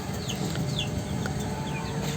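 Native chickens on a farm, some suffering from Newcastle disease, cluck and chirp in a steady mix of soft calls close by, with faint higher bird chirps scattered through the background.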